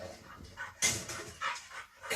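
Police dog Gunner, trained to sniff out drugs and cash, sniffs and pants close by while searching a car, with quick, irregular bursts of breathy snuffling.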